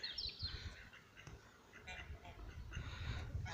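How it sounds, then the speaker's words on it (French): Mallard ducks at a small poultry farm, giving faint scattered quacks at a distance against quiet background noise. "là j'ai encore des colverts"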